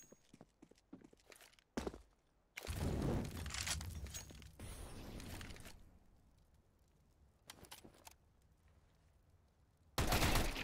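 Gunfire and action sounds from a competitive CS:GO match: sharp, fast bursts and rattling shots mixed with footsteps and in-game noise, coming in loud clusters separated by quieter stretches.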